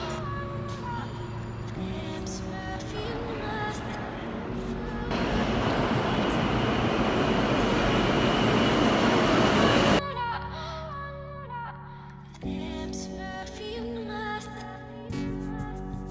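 Subway train ride in New York City heading toward World Trade Center, with a steady loud rumble of the moving car and a stretch of louder roaring rail noise, plus people talking nearby.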